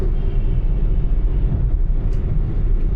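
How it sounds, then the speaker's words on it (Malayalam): Steady low rumble of a metro train rolling past overhead, continuous and fairly loud, with no voices. "മുകളിൽ മെട്രോ അങ്ങനെ പോയിക്കൊണ്ടിരിക്കുന്നു മെട്രോ ട്രെയിൻ അങ്ങനെ പോയിക്കൊണ്ടിരിക്കുന്നു"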